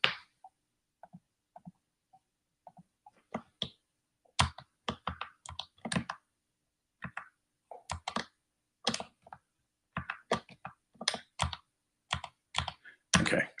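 Computer keyboard keys are tapped during a Windows 11 session, sparse single clicks at first, then quicker bursts of crisp, close keystrokes with short pauses between runs.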